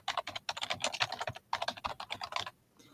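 Quick bursts of typing on a computer keyboard, close and crisp, with a short pause midway before another run of keystrokes that then stops.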